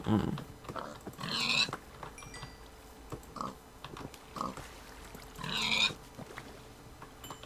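Pig grunts and oinks from the Minecraft video game come in a few short bursts, the two loudest at the start and near the end, with quieter snorts between them over light background noise.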